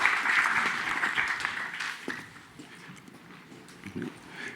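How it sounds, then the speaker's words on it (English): A live tech center event audience claps for a presenter, with a dense burst of applause that thins out and fades, murmurs underneath. "But please give a round of applause for Ryan from Chronicled."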